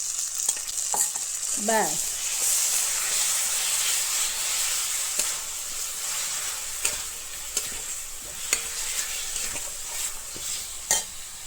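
Cumin, ginger, coriander, garlic and dried chilli sizzle and hiss steadily in hot oil in a pan, with repeated scraping stirs and a brief spoken word near the start.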